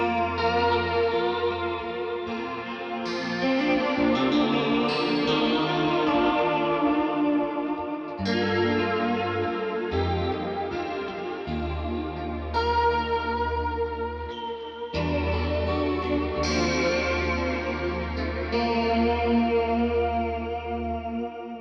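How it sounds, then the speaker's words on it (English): Clean electric guitar through a widening chorus effect, playing shimmering chords and arpeggios over a steady low bass line, continuous and full for the whole passage with no talking. "I've got this chorus effect here, which is really, really cool for kind of widening things out"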